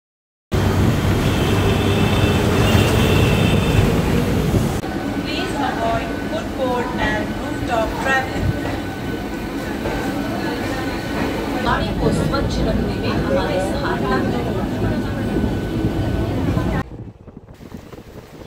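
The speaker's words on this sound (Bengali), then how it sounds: "শস্য শ্যামলা প্রকৃতিকে পাশে ফেলে ট্রেন ছুটে চলল দেউলটির দিকে" A passenger train runs along the line toward Deulti past green countryside, a steady loud rumble with wind buffeting, continuous throughout, under occasional talk, before cutting out near the end.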